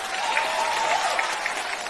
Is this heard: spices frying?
no